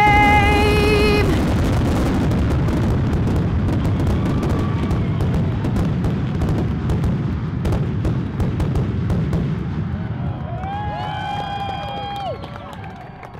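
A fireworks display at a pyrotechnics show, with a dense, continuous roar of booms, crackles and rumbling bursts, loud and sustained, with a crowd cheering and a whistling shell toward the end.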